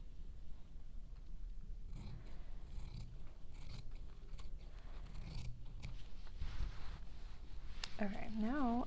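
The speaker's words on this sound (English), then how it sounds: "I'm going to trim off where my interfacing was a little too big" Scissors snip through excess fabric interfacing on a small fabric tray sewing project, a few close, crisp cuts at a steady pace, with a voice briefly talking near the end.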